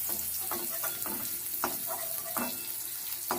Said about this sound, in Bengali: লাল লাল করে ফুলকপিগুলো ভেজে নিচ্ছি